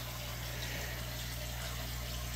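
Water runs steadily during a 50% water change on a 55-gallon community aquarium, a continuous trickle and gush over a low pump hum, even in level and close, with no talking.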